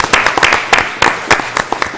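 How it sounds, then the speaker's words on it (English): Audience at a town Board of Selectmen meeting claps loudly and closely in a short burst of applause lasting about two seconds. "So I think your parents need a round of applause."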